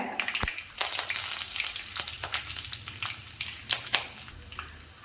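Curry leaves and dried red chillies crackle and spit in hot oil, a loud, busy sizzle with sharp pops scattered throughout, close up with no talking.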